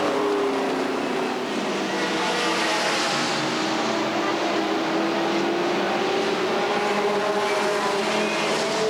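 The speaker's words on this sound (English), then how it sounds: "Andrews backs that Camaro up against the wall as the leaders come back to the line" Race cars, including a Camaro, roar around the Redwood Acres Raceway oval in a 1989 race, engines droning loudly and continuously with rising and falling pitch as they pass, with announcer talk underneath.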